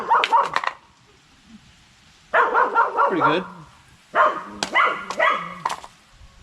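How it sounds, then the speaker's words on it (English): A dog barking outdoors on a fall day, three bursts of loud, close, rapid barks separated by pauses, with a brief spoken remark near the start. "my dog, outside enjoying the fall weather, barking at every little kid there is"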